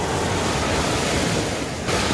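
Ocean waves break at a beach in a continuous loud roar of surf mixed with wind rumble, close to the microphone and with no voices.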